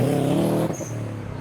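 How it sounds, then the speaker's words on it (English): A car rolls into a busy outdoor car meet, its engine loud and close for a moment before dropping away, with a brief burst of noise at the end. "There are still so many cars rolling in."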